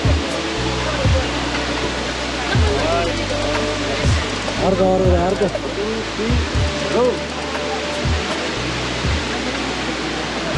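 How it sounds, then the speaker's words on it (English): Mohani waterfall roars as a steady broadband rush throughout, with voices chatting over it and a repeated low thumping, as if walking or moving nearby. "Saying goodbye to the waterfall."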